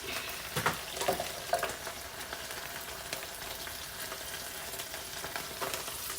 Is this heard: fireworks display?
no